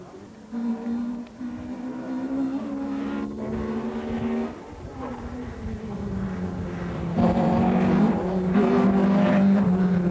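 A Vauxhall Chevette rally car tears up a hill climb stage, its engine revving hard and rising in pitch as it approaches, then surging louder in the final seconds as another car comes into view.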